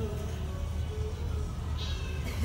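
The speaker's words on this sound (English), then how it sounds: "Meow, indeed." A pet cat meows faintly at a plant nursery, heard quietly over steady background noise.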